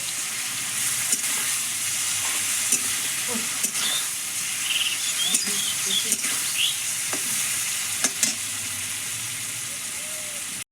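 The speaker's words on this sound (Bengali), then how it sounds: "মশলার সঙ্গে মাছটা একটু নেড়ে ছেড়ে নিয়েছি" Prawns fry with spices for a prawn malai curry, a loud, steady hiss of sizzling oil close up, broken by scraping stirs and light knocks of the utensil against the pan.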